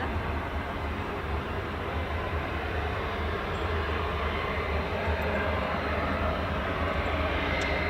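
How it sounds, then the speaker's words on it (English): A Boeing C-17 military transport aircraft taxiing at RAF Fairford gives a steady, loud low engine rumble and roar that holds constant and close throughout. "The C-17 is moving, look."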